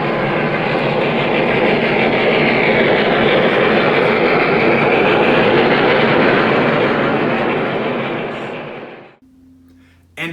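A train runs past on the rails in Detroit, a loud continuous rumbling roar with rattling that holds for about nine seconds, then fades and cuts off abruptly into near quiet with a faint hum.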